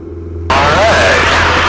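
Small airplane engine at full takeoff power on the takeoff roll, a loud steady roar that surges in abruptly and holds, with a rising whine layered over it.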